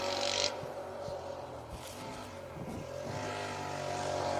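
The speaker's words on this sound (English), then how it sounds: "And that is what a Citroen Saxo VTS sounds like without an exhaust." A Citroen Saxo VTS rally car with no exhaust and a Peugeot Sport TU engine drones on an asphalt rally stage. The engine note wavers, rising and falling at moderate distance, fairly quiet, with no voices.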